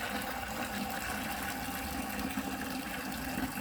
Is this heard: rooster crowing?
no